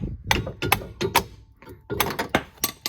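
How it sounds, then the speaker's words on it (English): A small punch struck repeatedly to drive a trailing arm bushing out of a 2004-2007 Cadillac CTS-V arm: sharp metallic taps in an irregular series, close and fairly loud, with brief pauses between clusters of hits. "I just put a little punch in there and just hitting it all the way through"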